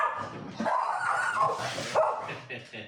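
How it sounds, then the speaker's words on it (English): A dog barks and yips excitedly at the arriving mailman, several close, loud barks mixed with whimpers, with people talking over it. "Here comes the mailman, guys, and when that happens, Capers goes nuts"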